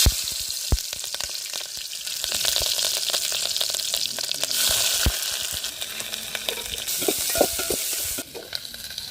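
Ground masala paste of green chilli, coconut, ginger and onion hits very hot oil and sizzles loudly, with stirring scrapes and bursts of crackle rising and falling over several seconds, no talking.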